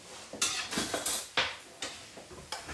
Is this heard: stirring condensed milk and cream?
yes